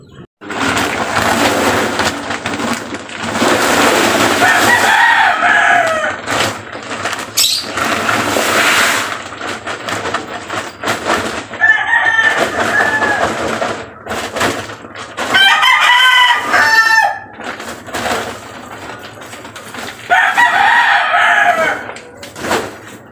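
Chickens cluck steadily while a rooster crows loudly several times, each crow a long rising call standing out over the flock's chatter.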